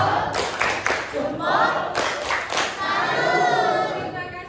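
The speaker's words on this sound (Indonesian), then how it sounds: "tepuk salut" A school class gives a rhythmic salute clap for a student group, with bursts of clapping mixed with children's voices and thumps, moderately loud and close in a classroom.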